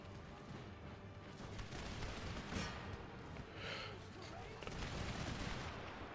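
Cannons on pirate ships boom in a modded Empire strategy game, a steady rumble of scattered distant blasts layered over a continuous battle din, with no single shot standing out clearly.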